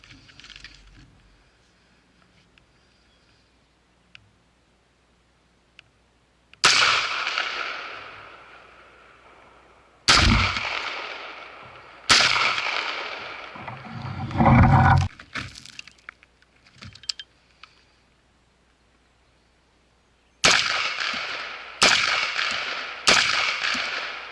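Rifle gunfire at an outdoor shooting range from an AR-style rifle built on a stripped lower, heard as sharp, loud cracks, some single and some in quick clusters, each trailing off into echo, with quiet stretches between.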